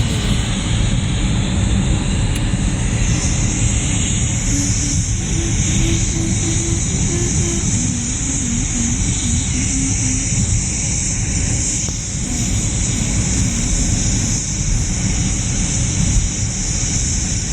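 Steady airplane engine drone from the Pilot Training Flight Simulator game, a loud, constant whining hum with a high tone running unbroken throughout.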